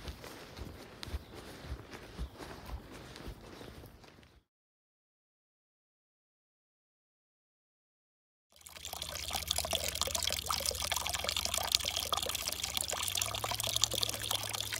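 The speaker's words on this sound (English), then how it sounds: "I wish this spring flowed year-round, but it's flowing now." Water from a seasonal spring flows and trickles steadily outdoors in early snow, heard in two stretches broken by a few seconds of silence, with faint footsteps possible.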